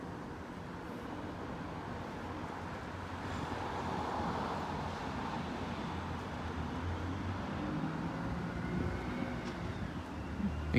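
A Northern passenger train passes a level crossing on Lincoln High Street at night, heard as a steady, broad rumble of wheels and engine that swells slightly midway and holds until the end, with no voices.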